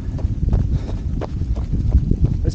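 Northerly wind during a cold outdoor trail run, a steady low rumbling buffet against the microphone with faint footstep-like thumps beneath.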